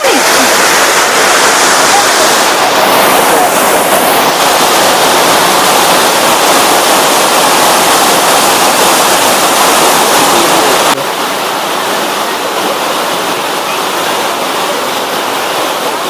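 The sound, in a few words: roar of Elephant Falls waterfall, Meghalaya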